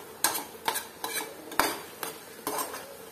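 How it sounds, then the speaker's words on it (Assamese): Ripe papaya cooking in ghee in a pan, stirred with a metal spoon that scrapes and clinks in about seven steady strokes over a faint sizzle, close by with no talk. "এতিয়া মই আৰু অকমান ভাজিম"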